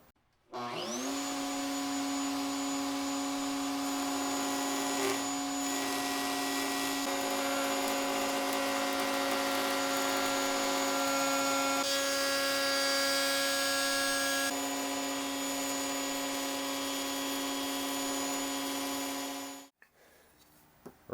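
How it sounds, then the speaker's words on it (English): A router on a router table cuts a guitar headstock following a template, a loud steady high whine with a constant motor drone that runs about twenty seconds before spinning down and stopping. "Let's jump back to the router table."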